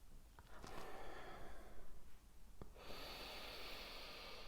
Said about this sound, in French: faire 3 grandes respirations, un peu bruyantes. Par le nez, en inspirant bien et en soufflant.